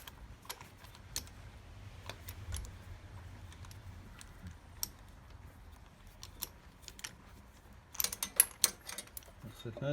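Ratchet spark plug socket working a spark plug loose on a Yamaha XVS 1100, giving a scatter of close, light clicks through the clip that bunch into a quick run of ratcheting near the end.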